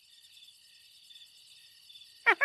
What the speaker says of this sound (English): Oh, that's a nice recording of a cricket.